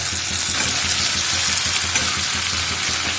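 Pre-fried potatoes being stirred into a mutton liver masala in oil, producing a continuous loud, close sizzle with soft stirring scrapes throughout.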